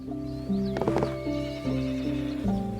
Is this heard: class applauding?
no